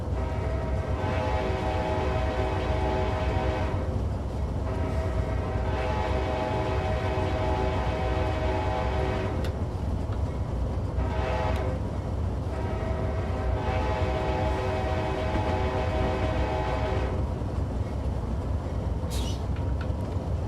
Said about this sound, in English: I'm going to show off you guys the horns here.